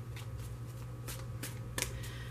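A tarot card deck is shuffled briefly by hand, soft papery riffles and taps coming in short bursts, close and quiet against a low steady hum, with no talking.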